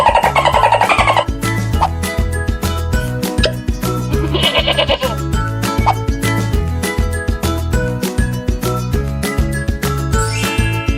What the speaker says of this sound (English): Goat.